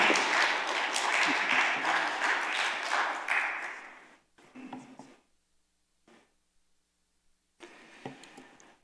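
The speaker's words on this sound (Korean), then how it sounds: "목사님 나오실 때 뜨거운 박수로 환영해 주시면 감사하겠습니다" Church congregation clapping to welcome a pastor to the stage for a seminar, a warm burst of applause that fades after about four seconds, followed by scattered faint taps and rustling.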